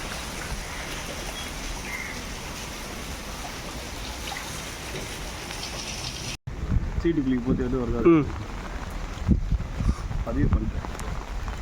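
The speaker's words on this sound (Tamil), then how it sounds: "இந்த ஒரு மழைக்கே பாருங்கள் தெரு ஃபுல்லாக தண்ணி நிற்கிது ஆனால் நல்ல மழை" Heavy rain hisses steadily and loudly on a flooding street. Partway through, people start talking close by while the rain keeps falling behind them.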